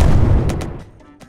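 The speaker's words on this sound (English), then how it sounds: "I can hear gunfire right now. I can hear people battling and fighting." A loud blast of gunfire in the video game Ancient Warfare 3 opens with a deep boom, then fades into a few scattered sharp cracks.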